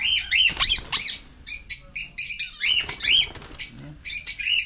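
Young chicks on a farm resort give repeated sharp, high squawks and chirps in quick irregular bursts, loud and close, with some faint rustling underneath.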